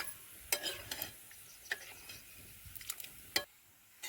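A bottle gourd curry cooking over a wood-fired stove gets stirred in a pot, a series of close, soft scraping and clinking strokes over a faint simmering hiss.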